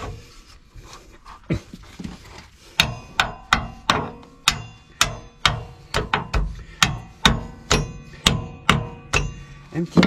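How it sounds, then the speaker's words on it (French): Hammer blows land on a part of a heavy truck: a few scattered knocks, then a long run of loud, evenly spaced metallic strikes, roughly fifteen, each with a brief ringing decay, close by. "Un petit coup de marteau dans sa gueule"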